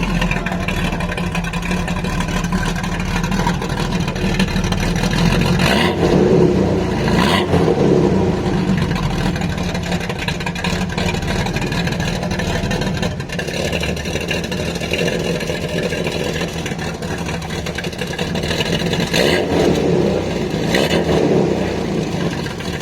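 A car engine revs with its exhaust valve open, giving a loud, continuous throaty drone that swells and surges through repeated throttle blips, with no talking over it.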